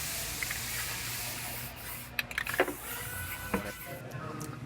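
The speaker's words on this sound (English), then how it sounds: "Now I'm just going to dust some white on top of these sound deadening pads to blend them in." White spray paint dusted from an aerosol can onto sound deadening pads on a car project, a few faint short hissing bursts over a low background hum, fairly quiet and close.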